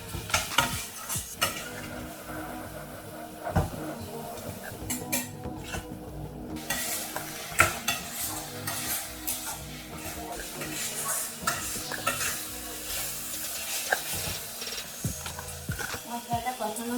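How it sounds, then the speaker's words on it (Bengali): A spice paste loosened with a little water is fried and stirred for a chicken dish with kasuri methi, with a busy run of spatula scraping and clattering against the pot over a moderate sizzle, and a voice speaking at times. "এই মশলাটাকে ভালো করে কষিয়ে নেব আবারও।"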